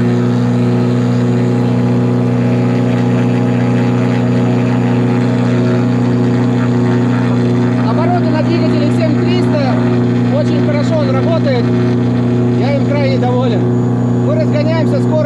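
A self-launching glider's engine drones steadily and loudly through a takeoff roll on an asphalt runway in Provence, with strong low harmonics; someone speaks over it in the second half.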